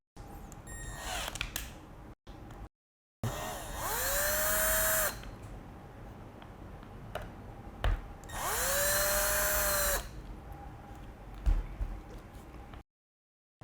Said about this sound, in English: Now we are gonna use T10 bit to remove this.